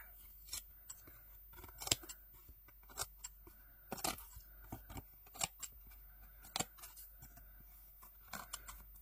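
Scissors snipping off excess paper or material on a craft project, a series of close, crisp cuts in irregular bursts with quiet pauses between them.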